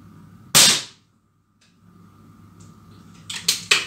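An air pistol fired at a target, a sharp close crack followed by a lull, then a quick cluster of snapping reports near the end.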